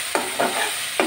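Tomatoes and garlic go into a pan of oil with already-fried fish, a steady sizzle under three short stirring scrapes, close and moderately loud, with no talk.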